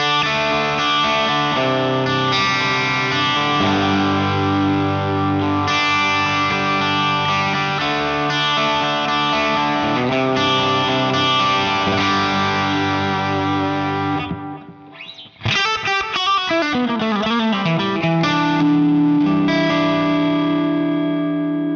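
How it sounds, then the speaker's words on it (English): Clean guitar through a Two Notes Le Clean preamp on channel A with only delay and reverb, playing continuously with ringing, echoing notes. It drops out briefly near the end, then resumes with trailing repeats. "Channel A, just the clean, nothing, just delay and reverb."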